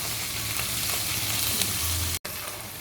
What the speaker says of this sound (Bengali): পেঁয়াজটা খুব সময় নিয়ে একটু ভালো করে ভেজে নিতে হবে।